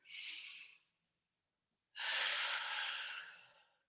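Two breaths during a mini-ball exercise workout: a soft breath in, a pause of about a second, then a longer, louder exhale lasting nearly two seconds, close and alone.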